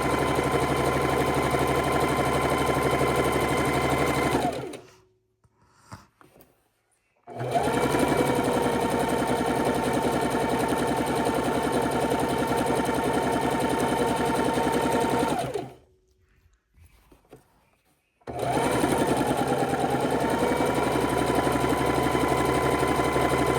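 A sewing machine stitches quilt blocks for a king-size quilt of flying geese, snowballs and pinwheels, running in three long, steady bursts separated by short silent pauses.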